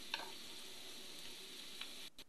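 Moringa flowers fry with a garlic and green chilli paste in a pan, giving a steady, fairly quiet sizzle with a few brief stirring clinks, heard alone without talk.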